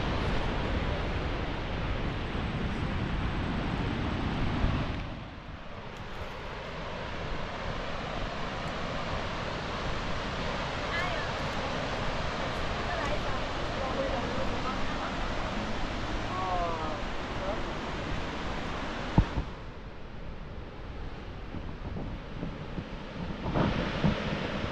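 Burney Falls in Northern California, a waterfall right by a parking lot, gives a broad, steady rushing roar that fills the whole stretch, with faint voices now and then beneath it.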